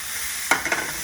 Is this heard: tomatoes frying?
yes